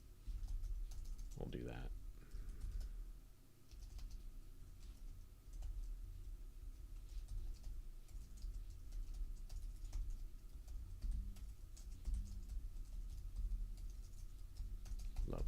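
Computer keyboard typing of code, a steady rapid patter of key clicks running throughout under a brief spoken remark and constant low hum.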